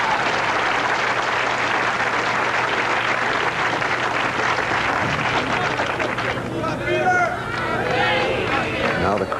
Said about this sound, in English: Now the crowd saying ahead of time, come on, Pete.